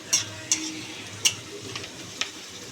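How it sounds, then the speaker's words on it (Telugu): Chicken and onions fry in a pan while being stirred: a steady soft sizzle runs throughout, broken by four or five sharp utensil clicks and scrapes against the pan at irregular intervals, close and moderately quiet, with no talking. "ఇంకా ఎక్కువ ఎంచితే చికెన్ ఫ్రై అయ్యే వరకు ఈ ఉల్లిగడ్డ అనేది ఇంకా బ్రౌన్ కలర్ అయిపోతుంది"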